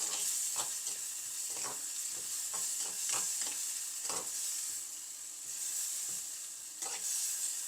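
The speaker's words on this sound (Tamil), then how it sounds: "வெங்காயத்தை நல்லா வதக்கி கொள்ளணும்" Sliced onions with salt sauté in a pan, giving a steady sizzle and hiss broken by repeated scraping stir strokes.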